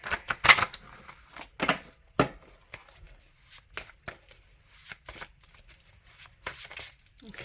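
Cards drawn one by one from a tarot-style deck for a pick-a-card reading, giving short papery snaps and shuffling flicks in irregular bursts, close and fairly quiet with no talking.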